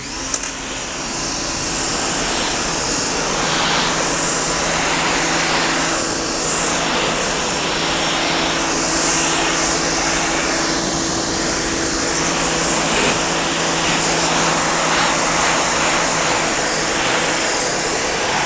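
AIVOLT PWX-3200s electric power washer spraying water onto a dirty surface, a loud, steady broadband hiss with a constant motor hum running unbroken and close for the whole stretch, no talking.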